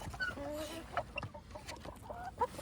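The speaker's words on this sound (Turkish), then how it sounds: "Bu tavuğu da çok seviyorum. Çok hanım bir tavuk." Several short hen clucks and bird calls, fairly close, coming in a loose irregular pattern with faint background noise.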